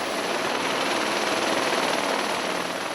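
A helicopter hovers close during a police search-and-rescue for a missing hunter, a loud, steady broadband roar of rotor and engine with no other sounds.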